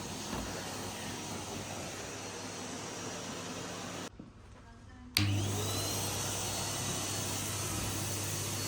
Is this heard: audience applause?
no